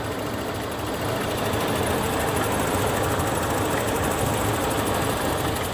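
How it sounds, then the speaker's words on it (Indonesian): Toyota Kijang Krista 1.8 EFI car engine idling smoothly once warmed up, a steady low rumble with an even hum that holds constant and fairly loud for the whole stretch, with no talk over it. "Kalau udah idle, suara mobilnya jadi lembut kayak gini."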